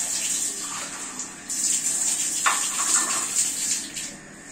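Water running steadily from a tap into a vessel as it is measured for tea in a home kitchen, a continuous splashing gush with no talk.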